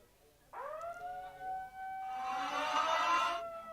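A civil defence siren sounds for a disaster drill at a school, rising sharply and then holding a loud, steady wailing tone for about three seconds before cutting off.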